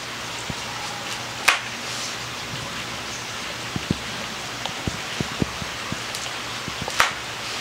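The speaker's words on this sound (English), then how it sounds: "We had a little bit of a rain shower" A light rain shower falls outdoors in a garden setting: soft, steady hiss with scattered faint drips and a few sharper taps, fairly quiet throughout.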